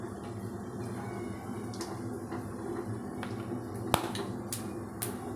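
Mustard seeds and cumin crackle in a couple of spoons of hot oil, a faint scatter of sharp, irregular pops and snaps over quiet kitchen background, with no talking.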